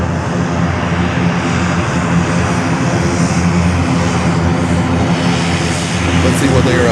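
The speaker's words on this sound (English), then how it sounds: "Bahamas Air ATR 42. A prop." A Bahamasair ATR 42 turboprop airliner at Fort Lauderdale-Hollywood International Airport, its engine and propeller drone loud and steady throughout, a broad continuous roar close by.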